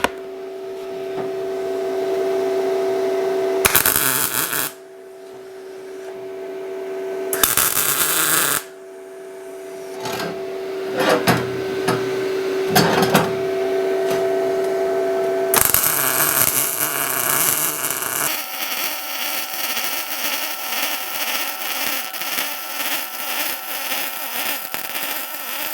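A Hynade MTA 200 PRO MIG welder tack welds 1/8 inch metal: several short bursts of crackling buzz separated by pauses, then a longer sustained buzzing stretch, loud and close with no talking.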